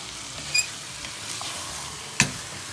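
Chicken curry masala being stirred in a pan, with a faint steady sizzle and a couple of brief sharp scrapes of the utensil against the pan.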